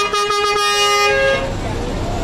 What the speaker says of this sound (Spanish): Si es que las bocinas me dejan